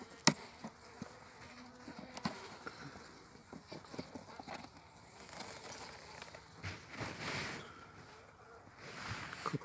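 Honeybees buzz faintly around an opened hive frame during hive inspection, a soft steady drone with scattered clicks and handling knocks, no voices.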